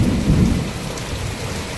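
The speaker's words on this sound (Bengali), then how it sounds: "এই যে মুষলধারে বৃষ্টি হচ্ছে" Heavy monsoon rain pours down steadily in a rural outdoor setting, a dense, loud, unbroken roar of water with a deep rumbling undertone and no voices.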